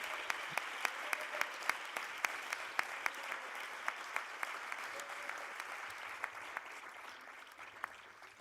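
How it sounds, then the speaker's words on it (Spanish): Graduation ceremony audience applause at a university faculty, heard as a fairly faint and distant wash of clapping with a few sharper, closer individual claps standing out along the way. "queremos aprovechar este momento y pediros un fuerte aplauso para ellos"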